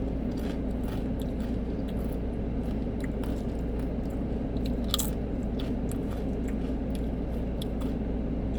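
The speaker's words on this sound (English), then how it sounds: "I also got some corn chips," Someone munches crunchy Santitas corn chips, steady close chewing and crackly bites against a low constant room hum, with no talking.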